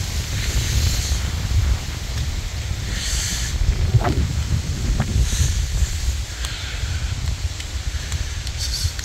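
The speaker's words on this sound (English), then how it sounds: "it's windy, breezy" Steady wind buffeting the microphone on a road in Munnar, Kerala, a constant low rumble with gusty swells and no talking.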